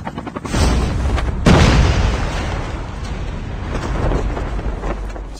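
A loud, close explosion erupts in the mobile shooter Call of Duty Mobile during a battle royale match, a heavy boom with a long rumbling tail fading into game noise.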